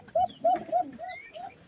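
Pigeons coo close by in a loft, several soft throaty calls in quick succession, rising and falling in a repeating pattern.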